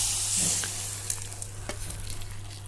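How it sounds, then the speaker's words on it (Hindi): A tadka for a West Odisha cucumber curry hits hot oil with a close, bright sizzle that rises sharply and then settles, punctuated by a few light stirring clicks, with no voices. "तो तड़का ये डाल दी हूँ अभी"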